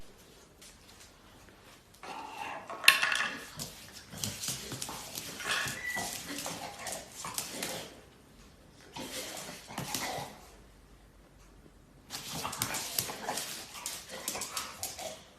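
A small dog reacts to getting a treat with soft whimpers, yips and scrabbling movement in bursts, fairly quiet and close, with pauses between flurries.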